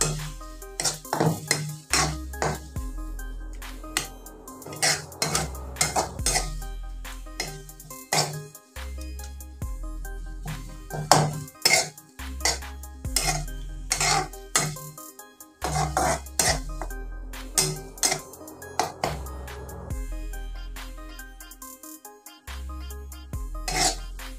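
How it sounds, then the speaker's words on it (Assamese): Coriander and chili powder are stirred in a pan for a fish curry, giving repeated scraping strokes in an uneven rhythm, close and fairly loud, with no talk. "ধনিয়া গুড়ি আৰু জলকীয়া গুড়ি আটাইখিনি দি মই ভালদৰে এইখিনি লৰাই ল'ম"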